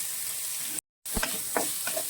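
Spices sizzling and frying in a pan for Onam-style ginger curry, a steady hiss broken by a brief dropout, then stirring scrapes and small pops.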